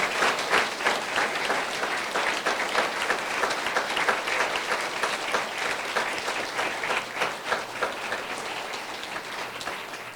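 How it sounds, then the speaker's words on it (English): An audience at a lecture breaks into sustained, dense applause, many hands clapping together steadily for about ten seconds without pause. "please put your hands together and make some noise"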